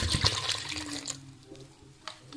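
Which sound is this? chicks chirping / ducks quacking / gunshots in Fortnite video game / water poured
water poured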